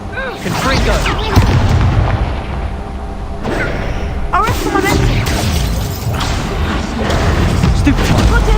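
Confringo spell blasts from Hogwarts Legacy gameplay, several booming explosions bursting over game music, combat effects and character voices, loud and close.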